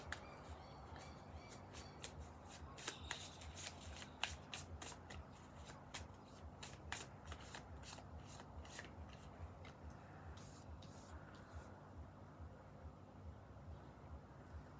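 Tarot cards being shuffled for a pick-a-card reading: soft, rapid riffling and flicking of the deck, quiet and close, in a continuous run that fades near the end.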